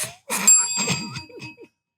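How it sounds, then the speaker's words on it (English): Bell struck repeatedly on a TV talk show set, giving a few bright, ringing tones that hang over a busy, mid-level background. "Are you hitting the bell every time I lie?"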